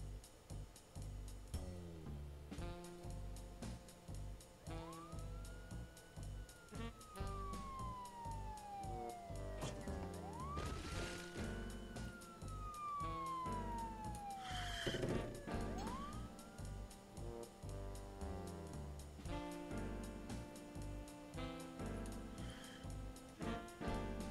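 Electronic police sirens from pursuing cop cars in the video game The Soul Driver wail and sweep up and down repeatedly over a busy, rhythmic game soundtrack, with several overlapping siren tones.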